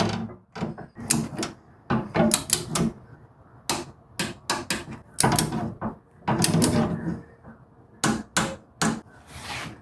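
Sharp metallic clicks and knocks from a torque wrench tightening bolts on a 2.0 Honda Civic engine during mount and pulley work, coming in irregular close bursts with short pauses between them.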